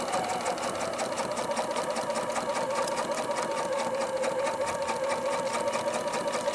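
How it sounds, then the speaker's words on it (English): A sewing machine stitching along a quilt seam through slightly stretchy fabric, running at a steady, fast, even rhythm close by for the whole stretch without pause. "And carefully sew along the seam."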